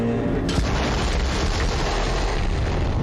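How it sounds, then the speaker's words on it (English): Explosion in Borderlands 3 (Bounty of Blood DLC) in a forest: a loud boom and burst near the start, then dense rumbling debris and roar sustained throughout, with no voices. "The explosion echoed through the forest"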